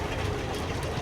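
A vintage engine, restored over about seven years after being found in a canal dock, runs steadily at a steam and vintage rally, with a continuous low chugging drone and no talk over it.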